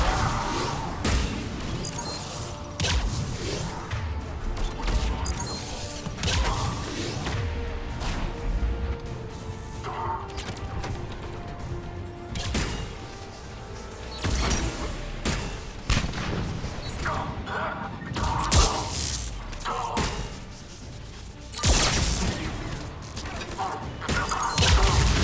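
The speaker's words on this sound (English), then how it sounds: "it's kind of difficult to look for while being shot at by the turret" In Mass Effect 3, a turret fires repeated loud bursts of gunfire, with sharp crashes and explosions over a busy game soundscape, and a voice speaks now and then.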